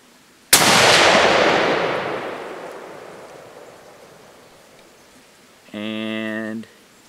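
Savage 110 7mm Magnum rifle firing one sharp, loud shot with a long rolling echo that fades over several seconds, followed later by a brief electronic tone.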